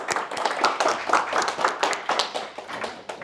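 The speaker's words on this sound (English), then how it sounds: "let's give him a round of applause" A conference-room audience at an angel investor training session applauds. The crowd claps as a moderate, uneven patter of many hands, with individual claps standing out, at fairly close range.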